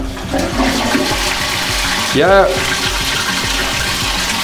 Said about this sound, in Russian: спускаю воду в унитаз